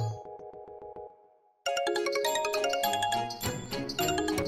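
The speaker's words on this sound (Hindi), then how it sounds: "सत्या का फोन यही कहीं आसपास है, देख आवाज सुनाई दे रही है।" A mobile phone ringtone plays nearby, first a bright repeating chime pattern that fades, then a loud, full melodic tune kicks in and keeps going.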